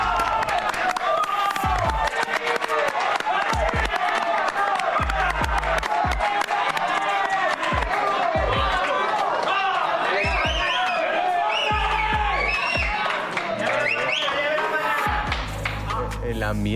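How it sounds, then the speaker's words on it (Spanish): A large crowd at La Velada boxing event weigh-in applauds and cheers, a loud, dense roar of clapping and shouting that continues throughout, with a commentator talking over it and repeated low thumps. "Pues un aplauso para Mariana y Plex"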